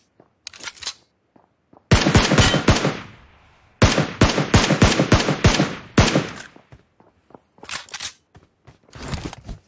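Gunfire in a VR shooting video game: several bursts of rapid, loud shots in close succession, separated by short gaps and a few isolated single shots.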